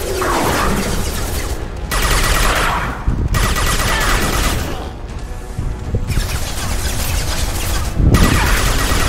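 Sustained automatic gunfire and heavy impacts in a video game battle against charging enemies, loud bursts running in long stretches separated by brief pauses.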